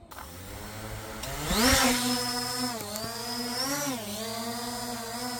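A V198 mini GPS quadcopter drone hovers in place outdoors, its brushless motors giving a steady, fairly close high-pitched whine whose pitch wavers slightly up and down as the drone holds position.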